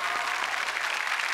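An audience claps for a senior classical singer welcomed onto a stage, a dense, steady burst of many hands that fills the short moment without any talk over it.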